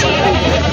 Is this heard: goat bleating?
yes